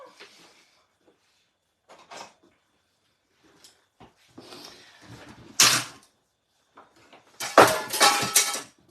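Scattered clattering, then two loud metallic crashes as thin metal cutting plates from a Stampin' Emboss die-cutting machine hit the floor during card making, with softer knocks and shuffling between them.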